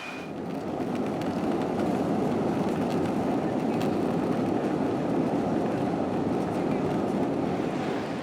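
A Hong Kong airport train rolls steadily along the rails with a continuous low rumble and faint rhythmic clatter, heard from inside the carriage.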